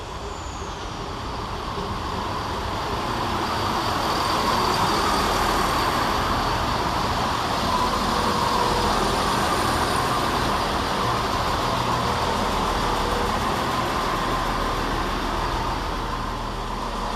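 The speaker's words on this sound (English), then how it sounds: "we see the arrival of 17396, working the 1025 Scotrail service from Glenrothes with Thornton to Edinburgh Waverley" ScotRail unit 17396 pulls into Edinburgh Gateway station on a service from Glenrothes with Thornton to Edinburgh Waverley, a steady broad rumble of the train rolling in that holds evenly throughout.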